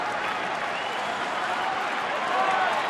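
A baseball crowd cheers and applauds steadily as fans rise with a full count in Atlanta at Milwaukee, a broad, sustained roar of clapping and voices.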